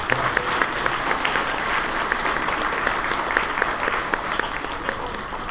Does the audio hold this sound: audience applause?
yes